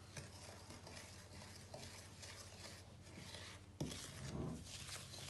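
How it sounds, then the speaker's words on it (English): A spoon stirs melted butter through crushed biscuits in a bowl, a close, continuous scraping and rubbing with uneven strokes, and one louder knock or scrape partway through. "add it to the biscuits, and then you can use a spoon to stir it all together"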